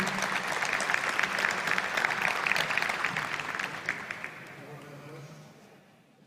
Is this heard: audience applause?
yes